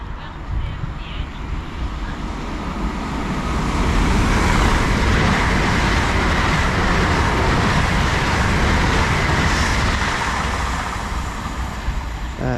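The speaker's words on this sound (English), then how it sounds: "passing through now is an LNER service to Inverness from London King's Cross" LNER Class 800 unit 800104 on the daily London King's Cross to Inverness service passes through Newark North Gate station, a loud broadband rush and roar that swells around four seconds and holds steady to the end.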